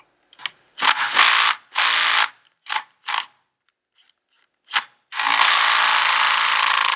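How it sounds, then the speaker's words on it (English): A rattle gun with an in-hex driver works on an IAME X30 kart clutch, loud buzzing impact bursts of varying length separated by short pauses, then a long sustained hammering run, with no talking. "Then hopefully with your rattle gun and your in-hex driver, put the rattle gun on here."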